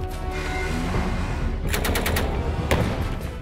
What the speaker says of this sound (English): 400 rounds of heavy metal shot through full auto machine guns